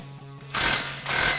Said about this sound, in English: Now we can slide our clamp into place and use a 15mm socket to loosely tighten